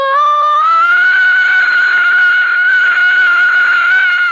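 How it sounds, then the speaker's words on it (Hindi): A loud, sustained shriek rises sharply and then holds at a high, piercing pitch, a fearsome scream in a horror story set in a haunted mansion. "धीरे धीरे आवाज करीब आती गई और फिर एक भयंकर चीख"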